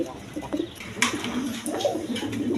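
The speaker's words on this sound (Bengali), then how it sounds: "এখানে এক পেয়ার ডেনিশ কবুতর আছে" A pair of Danish pigeons, one black female and one white male, coo softly at close range in a pigeon market stall, with low murmuring calls repeating against background chatter and ambient noise.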